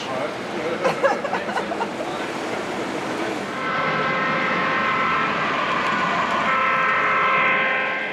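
A model train runs on the layout of the Greater Baton Rouge Model Railroaders club, a steady mechanical rumble with a sustained tonal whine in the second half, as someone talks over the first few seconds.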